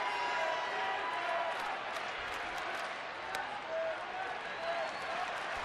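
A baseball stadium crowd roars and cheers steadily at an Arizona–San Francisco game after a run-scoring hit, a loud sustained wash of voices with scattered claps and shouts throughout.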